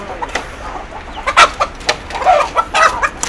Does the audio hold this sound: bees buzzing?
no